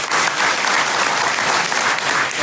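Loud, even applause from a packed book launch party crowd, many hands clapping in a thick continuous roar that holds level for the whole stretch.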